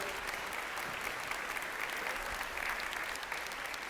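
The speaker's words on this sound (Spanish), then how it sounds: "Denle un aplauso al Señor." A church congregation applauds in praise during a sermon, a steady wash of many hands clapping, even in level and somewhat distant, continuing without pause.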